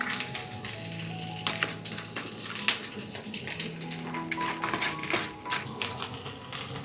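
Cabbage frying in a medium-hot pan with two tablespoons of regular oil for a beef and cabbage stir fry, giving a steady, close sizzle with scattered crackles and stirring scrapes throughout, no talking.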